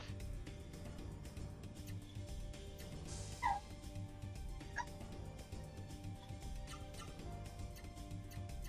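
Dog barks and whimpers from the video game Legaia 2: Duel Saga, a few short yips and a whine heard faintly over a steady game soundtrack with no voices.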